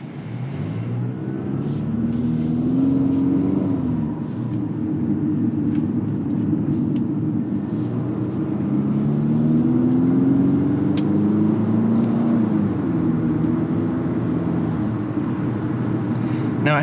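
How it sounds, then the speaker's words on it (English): Cabin sound from a 2024 Infiniti QX50 accelerating, its CVT simulating gear shifts: a steady engine drone whose pitch climbs, drops back and climbs again, with constant road rumble underneath. "with the CVT transmission, it kind of simulates gear shifts and stuff like that"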